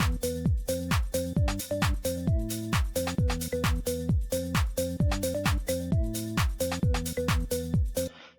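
A simple house beat for rappers plays alone: a punchy, repeating drum groove with bouncy melodic bass and synth stabs, looping steadily at a moderate level with no voices.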